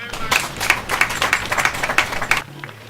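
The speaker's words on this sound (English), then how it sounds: "Ladies and gentlemen, another round of applause." Lively applause from an audience at a diplomatic event in Ghana, many hands clapping in quick bursts for about two and a half seconds before it abruptly dies away.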